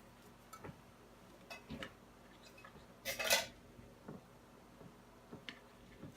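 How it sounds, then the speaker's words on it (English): A spoon stirs peaches into a mixture, giving faint scattered clinks and taps against the bowl, with one brighter clatter midway, quiet and close. "So now you're just going to mix all that together."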